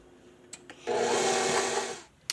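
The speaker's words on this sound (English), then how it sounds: "Now blend." An electric mixer whirs through chocolate chip cookie dough with vanilla, a steady buzzing motor hum lasting over a second, bracketed by a few light knocks and clicks, close by with no talking.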